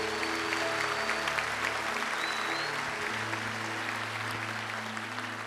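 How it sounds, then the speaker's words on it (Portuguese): Strong, sustained applause from a church congregation at an evening Baptist service, dense clapping filling the hall steadily throughout, with sustained keyboard or organ tones underneath. "Vamos receber o pastor Gustavo com uma forte salva de palmas."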